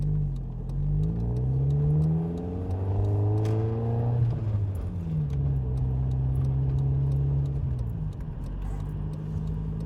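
A 1994 Nissan Pulsar GTI-R engine pulls through the gears while driving, revs climbing in long sweeps, dropping at each shift and rising again, loud and close from inside the car with no talking.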